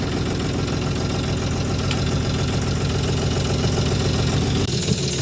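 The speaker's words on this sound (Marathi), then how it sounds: "ट्रॅक्टर चालू करू दे मला." A tractor engine runs steadily at idle near a ploughing field, a dense, knocking mid-pitched drone that stays even throughout with a slight shift near the end.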